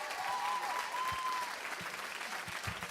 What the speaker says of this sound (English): Round of applause for this young man.